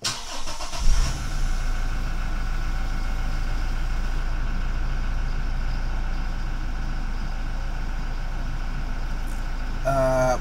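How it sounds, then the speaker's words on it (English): A Toyota Innova Crysta engine cranks and catches near the start, then settles into a steady, close idle hum that continues to the end. "I will start the engine"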